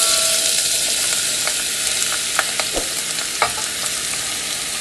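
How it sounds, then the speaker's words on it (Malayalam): Broccoli stir-frying in a pan for a Kerala-style thoran, with a steady loud sizzle and hiss and occasional scraping stirs. Close, with no voices. "ഇനി നമുക്ക് ഇതിലോട്ട് നമ്മുടെ ബ്രോക്കോളി ആഡ് ചെയ്ത് കൊടുക്കാം."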